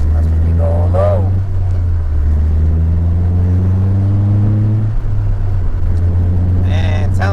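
Steady low engine drone of a 2000 Honda Civic EK while driving, with rising tonal rev sweeps climbing and settling, broken by short bursts of talk from people inside the car.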